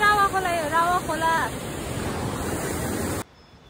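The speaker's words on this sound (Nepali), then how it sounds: "रावा खोला।" The Rawa Khola river rushes along in the Himalayas as a steady, roaring wash of water. Brief high chirping tones sit over it at the start before the sound drops away abruptly near the end.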